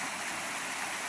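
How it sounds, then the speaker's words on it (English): Cascade Waterfall off the Blue Ridge Parkway rushes with a dense, steady, broad hiss of falling water, close and loud with no talk. "And this is the waterfall."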